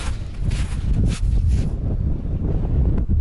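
Steady wind over a lake buffets the microphone with a low, rumbling roar that gusts throughout, briefly hissing brighter in the first half.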